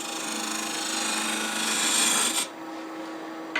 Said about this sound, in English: skew as a negative rake scraper and just clean up any nervous tool marks before we sand